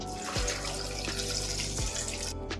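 Water pours into a pressure cooker holding tomato, potato, salt, turmeric and oil for a sambar, making a continuous close splashing stream with no speech.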